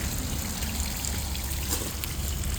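Water runs steadily from a hose feeding a 90hp Mercury two-stroke outboard for a test after a water pump change, a constant close rushing hiss with no breaks.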